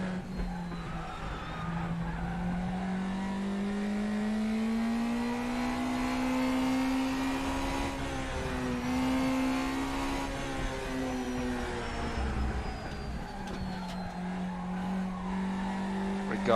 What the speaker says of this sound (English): the cars in Race Room have like two tire scrub sounds